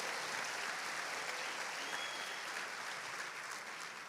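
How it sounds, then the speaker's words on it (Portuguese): A church congregation applauding during a sermon, broad continuous clapping from many hands, fairly distant and soft, sustained without a break. "Quem está entendendo, aplaude forte ao Senhor."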